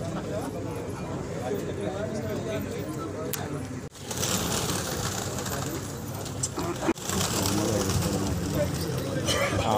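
Hyderabadi pigeons coo in the summer heat at a Delhi loft, soft repeated calls beneath people talking nearby, with a couple of brief knocks along the way.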